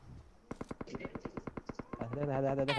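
Rapid automatic gunfire in the mobile battle royale game BGMI, a burst of a dozen or so sharp evenly spaced shots close up, followed by a rising tonal game sound.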